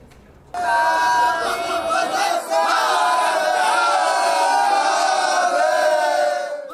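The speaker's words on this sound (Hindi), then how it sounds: "बाबा भोले की नगरी में देवी अन्नपूर्णा के मंदिर पर भक्तों की भीड़ लगी हुई है" Loud, dense crowd of devotees chanting and shouting together at the Annapurna temple in Varanasi on Dhanteras, a continuous collective roar of voices with a brief dip midway.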